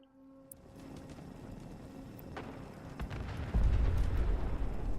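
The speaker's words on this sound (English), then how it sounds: "Some explosions for sure." Explosions in the video game Fallout 4 VR: a low, rumbling boom builds and swells near the end over a faint hissing background, with no talking.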